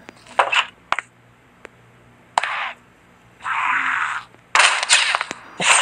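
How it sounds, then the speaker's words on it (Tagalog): Gunfire in the Minecraft Zombie Apocalypse game on hard mode, with several short, sharp bursts of shots and a longer sustained blast, loud and alone with no talking. "napindot ko yung gatilyo ng baril ko."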